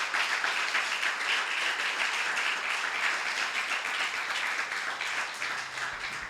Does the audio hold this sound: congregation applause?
yes